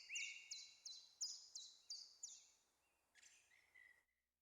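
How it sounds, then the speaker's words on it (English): Bird chirps from the video game Norco: a quick series of about seven sharp, high repeated calls in a steady rhythm, followed by a softer trailing trill, clear and alone against a quiet background. "That chirping's getting a little fucking dumb."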